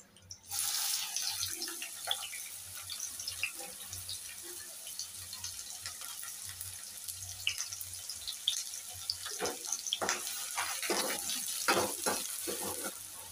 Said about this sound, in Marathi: तर आपल्याला कांदा चांगला लालसर परतून घ्यायचा आहे